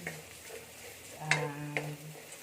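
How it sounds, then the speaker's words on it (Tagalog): Garlic frying in a pan for pancit bihon guisado, giving a soft sizzle under a couple of sharp utensil taps and stirring clinks, close and moderate in level. "Unahin natin guys ang bawang. Hintayin natin na maging brown siya."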